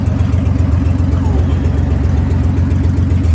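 A rock crawler's 4.3-litre V6 idles loud and rough with a steady, lumpy pulse, its open headers giving a deep, throbbing rumble close by.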